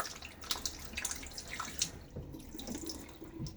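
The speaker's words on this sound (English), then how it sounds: "rinse my razor off here, get a little water in my hand" A Gillette Tech Hybrid safety razor is rinsed under a running sink tap, with splashing, tapping and dripping water close by that tapers off to quieter trickles, with no talk.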